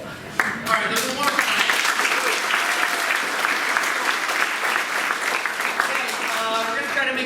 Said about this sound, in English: So clap like we're excited to be here.